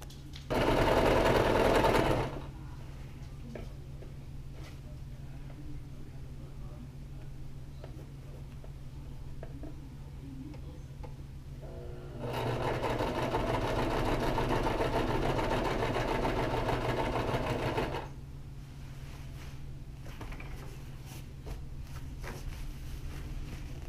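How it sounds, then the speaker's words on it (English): Sewing machine stitching a quilt baffle shut, running in two loud steady bursts, a short one at the start and a longer stretch midway, with a quieter motor hum between them. "I'm about to sew it shut on one end"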